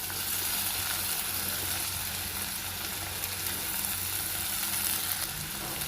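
Cut potato pieces sizzle and fry steadily with softened onions in a pan, a continuous close crackling hiss without any talk.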